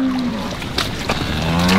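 A bull and heifers moo in a field, one long, loud, low drawn-out call close by, its pitch sliding down and then holding steady, with a second bellow overlapping near the end.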